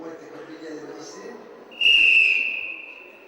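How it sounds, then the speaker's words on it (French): A sharp, loud whistle blast cuts in over a background murmur of voices and holds steady for more than a second before fading, at an outdoor performance on la plaine Achille in Saint-Étienne. "Le coup de sifflet déclenche la lecture d'un texte de Philippe Dubat"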